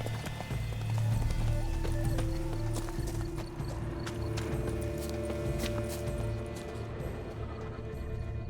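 Horse hooves clip-clop steadily in The Witcher 3: Blood and Wine, a continuous even gait over a dense ambient game bed, moderately quiet and without speech.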